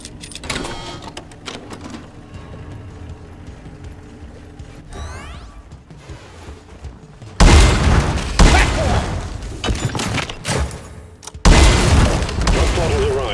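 A drop pod lands in Deep Rock Galactic: mechanical creaks and whirring descend before a heavy booming impact, then loud grinding rumbles and a second thunderous hit, with talk heard during the buildup.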